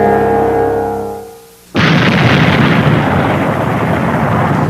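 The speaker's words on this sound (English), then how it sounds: "Krakatoa erupted with an explosion considerably larger than this one recorded in 1927" A 1927 volcanic eruption explosion in the Cascades erupts abruptly as a loud, sustained broadband roar after a fading low rumble, continuing steadily without any voices.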